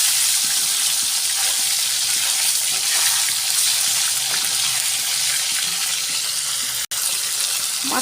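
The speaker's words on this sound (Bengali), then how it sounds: "তেলটা গরম হয়ে গেছে, মাছগুলো ভেজে নেব।" Fish frying in hot oil produces a loud, continuous hissing sizzle close by that holds steady throughout, with only a momentary break near the end.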